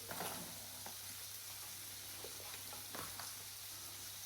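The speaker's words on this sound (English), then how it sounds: "Now, spinach, I'm just going to wilt it" Spinach wilts in a hot pan of coconut oil, giving a steady close sizzle and hiss with a few soft stirring scrapes, no talking.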